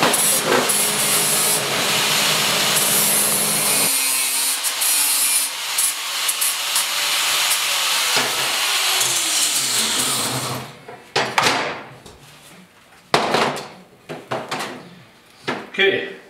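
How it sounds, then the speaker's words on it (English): Power drill bores holes through steel while fabricating a TV stand for a four-foot pony wall, with a loud, sustained grinding whine that drops away after about ten seconds, followed by scattered clanks and handling noises. "Okay, we got the holes drilled."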